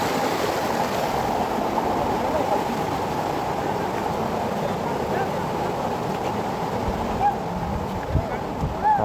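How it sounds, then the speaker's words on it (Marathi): Steady rushing of clear water running over and between rocks on a trek up Harishchandragad fort, a continuous broadband wash that stays loud and even throughout. "दगडातून चाललंय पाणी"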